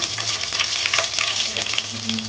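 Loud, steady sizzling of chillies frying in hot oil with masala and bay leaf for prawn curry, crackling continuously with occasional stirring scrapes, close up and with no talking.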